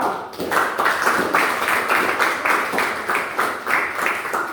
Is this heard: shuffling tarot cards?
no